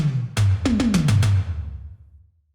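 An unprocessed synthwave floor tom, muted and dark, hit about six times in a quick fill, each stroke a soft thud with a low falling pitch, close and alone, ringing out to silence.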